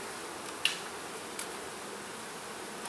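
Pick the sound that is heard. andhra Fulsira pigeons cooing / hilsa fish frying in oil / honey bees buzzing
honey bees buzzing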